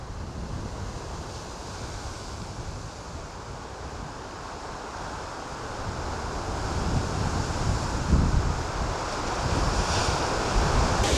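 Waves wash onto the lakefront shore of a Cleveland, Ohio park in a continuous rushing wash mixed with wind buffeting the microphone, swelling louder toward the end.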